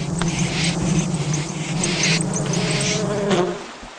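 Flies and mosquitoes buzz close and steadily, a dense droning whine that wavers in pitch for a few seconds before fading at the end.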